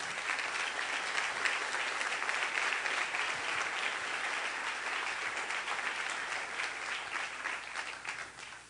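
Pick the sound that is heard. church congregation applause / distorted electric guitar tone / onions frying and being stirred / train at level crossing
church congregation applause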